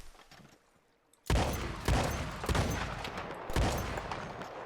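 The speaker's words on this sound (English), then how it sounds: "now let's try some shotguns" Pump and semi-automatic shotguns fire in Red Dead Redemption 2: four heavy, booming blasts spaced about a second apart, each one trailing a long echoing decay.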